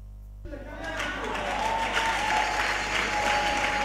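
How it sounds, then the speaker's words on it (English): A church congregation breaks into applause during a sermon, clapping swelling in after a brief quiet start and holding as a steady, moderately loud crowd sound. "Are you sitting down clapping?"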